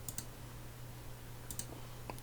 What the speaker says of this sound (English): end your shift by clicking on the menu button heading down to end shift